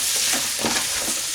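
Steak, kidney and onion sizzling steadily in a pan while being stirred, a loud close hiss with soft scraping pulses from the stirring.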